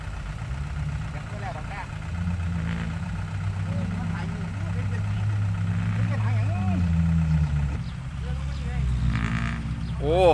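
A farm tractor idles in a muddy, stuck-vehicle scene with a low, steady engine rumble throughout. Faint voices come and go over the hum, which swells slightly toward the end.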